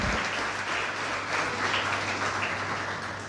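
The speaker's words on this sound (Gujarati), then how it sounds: "આપણે જોરદાર તાળીઓ પાડીએ નિશાબેન માટે." A crowd at an awards ceremony applauds steadily for a few seconds, a dense, even wash of clapping with no voices over it.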